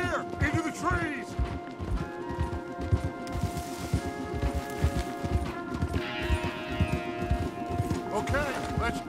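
Several horses gallop hard in Red Dead Redemption 2, a rapid, rhythmic drumming of hooves that carries on throughout, close and loud, with game music and occasional voices layered over it.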